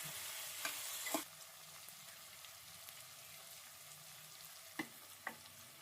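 Soaked peas fry in oil for tomato bath, a faint, low sizzle running steadily beneath a few sharp spoon taps and scrapes against the pan.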